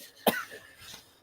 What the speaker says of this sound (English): These poor guys, they have a cough from hell